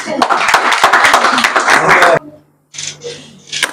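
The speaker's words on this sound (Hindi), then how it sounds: "एक बार जोरदार तालियां।" Audience applause at a book event, a burst of brisk clapping for about two seconds that cuts off abruptly, followed by quiet and a few scattered sounds.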